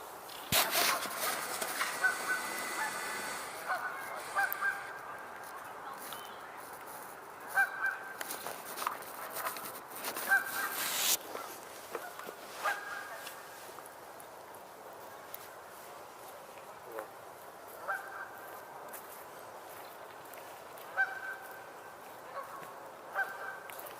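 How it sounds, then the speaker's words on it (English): A bird calls repeatedly from a tree beside an outdoor trail, its bright honking cries recurring every few seconds over steady open-air background noise, fairly close and clear with no talking. "Did you hear that bird?"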